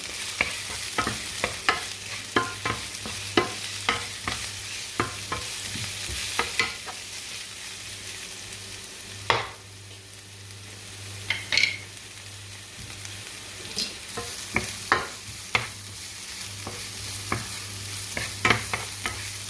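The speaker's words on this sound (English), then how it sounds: "Give that a gentle stir." Garlic frying in a pot for a rice dish, a low steady sizzle under frequent clicking taps and scrapes from gentle stirring, close and alone for about twenty seconds.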